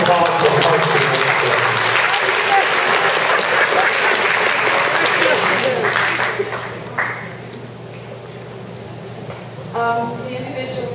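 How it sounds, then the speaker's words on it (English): Audience applause fills a community association meeting about a park zipline proposal, loud and steady for about six seconds before fading to scattered claps and room murmur, with a voice speaking near the end. "let's have a round of applause for the Parks and Rec."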